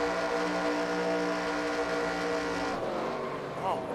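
A race car engine holds full throttle in a sim racing video game at Talladega, a loud sustained multi-harmonic roar that suddenly drops and sputters near the end as the car loses speed.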